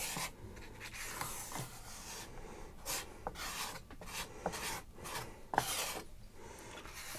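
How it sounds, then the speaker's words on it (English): A cut-off piece of wood spreads filler across a model railway layout, giving a steady run of close rasping, scraping strokes with short pauses between passes and no talk. "I'll give it a quick spread with this cut off wood"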